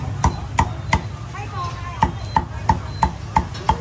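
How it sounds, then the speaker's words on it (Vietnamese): A cleaver chops pork on a board to make bánh mì filling, striking in a brisk, even rhythm of about a dozen sharp thwacks, close and loud, with a brief pause midway and faint voices behind. "Băm một thau thịt đó để làm bánh mì đó."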